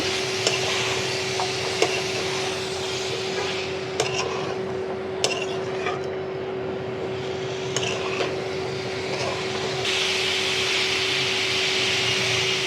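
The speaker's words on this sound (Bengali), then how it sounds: "মশলাগুলোর সাথে ভালোভাবে আমি সজনে ডাটাগুলো একটু কষিয়ে নিচ্ছি" Moringa drumsticks and potatoes fry with spices in a pan, the stirring spoon scraping and tapping the metal at intervals over a steady hum and soft sizzle, close and moderately loud, without speech.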